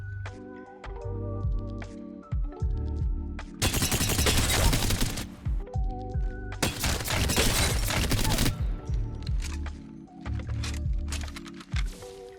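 Gunfire from the 30-30 Repeater rifle in Apex Legends: two dense bursts of sharp, loud shots, each followed by cracking impacts, separated by quieter clicking and mechanical handling sounds.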